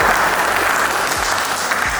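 An open-mic audience claps in a steady, dense wash of applause, loud and close, running throughout without a break.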